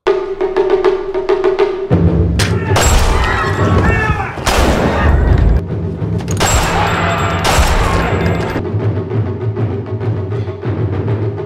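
Loud bursts of gunfire crack repeatedly, with heavy booming shots and rapid volleys over a rumbling background.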